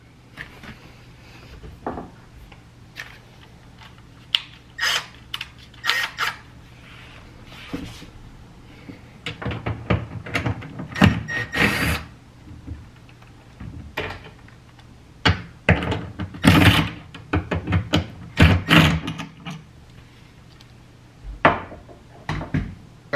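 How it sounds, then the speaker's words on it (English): Wooden kitchen cabinet door being unscrewed and lifted off, with scattered clicks, knocks and clatters of handling and a few solid thumps as it is set down on a table, close by and irregular. "we'll take this door off now and put it up on the table so you guys can get a better look"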